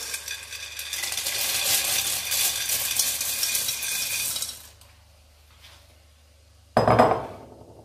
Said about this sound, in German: Das Ganze gieße ich jetzt mit den 400 Milliliter Gemüsebrühe auf. Dazu gebe ich meine 500 Gramm Pasta.